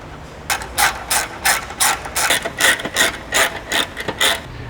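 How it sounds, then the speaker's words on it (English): Ratchet wrench clicking in quick repeated bursts while tightening nuts on the under tray of a Hyundai i30 Sedan N, about a dozen close, crisp ratcheting strokes in a steady rhythm with no talk. "Reinstall the diffuser bolts and put in the 2 nuts."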